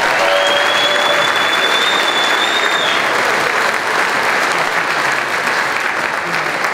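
Audience applause at a school jazz concert, a dense, steady burst of clapping filling the room, loud and continuous, with a faint tone and a little voice underneath.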